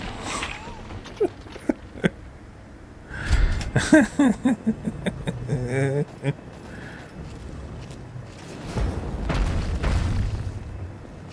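Turret in Fallout 3 blowing up, heard as heavy booming blasts and a run of rapid bursts amid game noise, with a person talking over parts of it.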